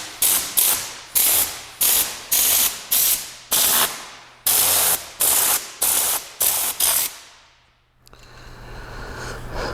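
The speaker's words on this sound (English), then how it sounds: "First, use it to blow debris from the corners." Tornador 007 mini air-powered cleaning tool firing loud, close hissing bursts of compressed air in a rhythmic series of about a dozen pulses, then a softer continuous airflow.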